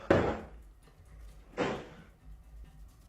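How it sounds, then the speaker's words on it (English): A door is shut and then bangs loudly twice, two sharp wooden thuds about one and a half seconds apart, each with a short decay, and nothing else around them. "When he shuts the door again, a loud banging is repeatedly heard."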